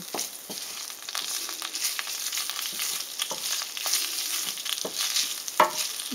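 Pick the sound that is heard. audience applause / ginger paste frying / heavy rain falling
ginger paste frying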